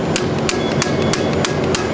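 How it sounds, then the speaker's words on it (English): A hammer strikes a manual impact driver during forklift repair work, six sharp metallic blows landing at a steady, even rhythm, close and loud over a constant background hum. "It's kind of like an impact gun, except you hit it with a hammer, and it does the same action."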